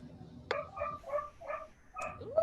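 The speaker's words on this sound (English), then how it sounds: "Whose puppy is barking?" A puppy gives a short series of four or five high yips and barks in quick succession, faint and somewhat distant in a quiet indoor room.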